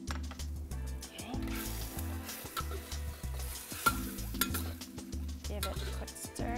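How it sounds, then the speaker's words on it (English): Ong choy beef stir fry being stirred in a pan: a soft sizzle with scraping and clinking of a utensil, faint and partly under background music. "Give it a quick stir here."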